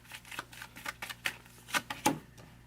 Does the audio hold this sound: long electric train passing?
no